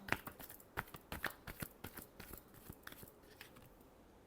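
A deck of tarot cards is shuffled by hand in quick, crisp riffles and taps, a string of close, soft clicks and flutters that trail off gradually in a quiet room.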